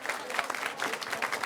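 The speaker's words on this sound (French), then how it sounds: "Merci Mika, vous pouvez l'applaudir fort s'il vous plaît." An audience applauds at a flash talk on school orientation held at the Cité des Sciences et de l'Industrie, steady dense clapping from a crowd for a brief stretch.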